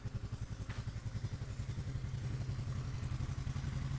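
A small farm tractor's engine running on a field, a fast, even low chugging pulse that holds steady, faint and somewhat distant, with no talk over it.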